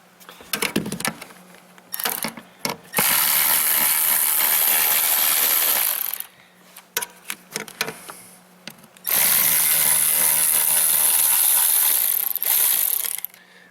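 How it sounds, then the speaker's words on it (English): Ratchet wrench loosening bolts on a Kia Rondo during engine work, two long bursts of rapid clicking separated by a pause, with scattered tool knocks and clanks between, close and loud. "Now let me get a ratchet."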